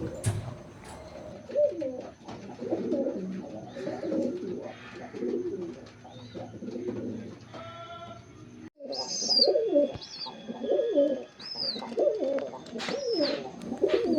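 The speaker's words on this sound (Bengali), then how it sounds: "এখানে যে দুটো পায়রা দেখছেন" Pigeons coo repeatedly in low, throaty rolling phrases, close by, with occasional higher chirps and a faint background hum.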